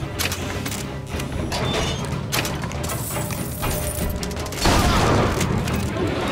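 Shotgun blasts and combat noise from the video game Bioshock Infinite, a dense run of booming shots over a continuous layer of in-game clatter and effects, ending in a louder, brighter burst.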